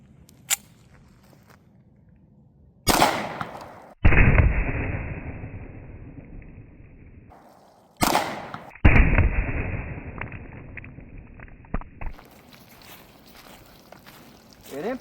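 Two loud, close .45 ACP gunshots with Federal Hydrashok rounds fired into gallon water jugs outdoors, each a sharp crack followed by a long ringing echo, separated by quieter handling noise.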